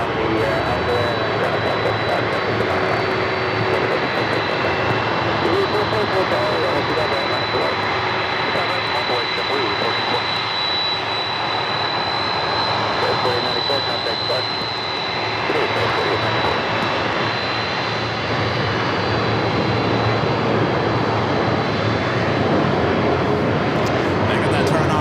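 A Boeing 747's jet engines roar steadily and loudly while it taxis at LAX, a continuous dense drone with a high whine, nearby throughout the whole stretch, and no talk over it.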